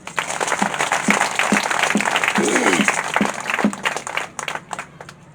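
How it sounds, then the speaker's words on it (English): An audience applauds at a rural women's rights gathering, a dense, steady wash of many hands clapping that swells and holds before thinning toward the end, with a voice faintly underneath. "Let us clap again"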